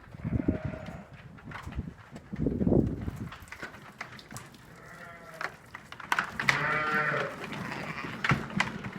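Ile-de-France lambs bleat repeatedly on a farm, several overlapping calls near and moderately loud, with harmonic cries swelling around the middle and end amid faint barn shuffling.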